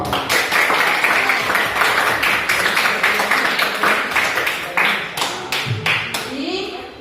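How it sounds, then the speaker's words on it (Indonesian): A classroom of students applauds all the presenting groups, many hands clapping in a steady, loud patter that gradually thins out, with brief talk near the end. "Sekali lagi, tepuk tangan buat semua kelompok."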